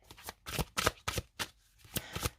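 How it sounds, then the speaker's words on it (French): Tarot cards are shuffled in quick, rhythmic bursts of riffling, close and fairly loud, with no talking. "On va mettre une carte supplémentaire."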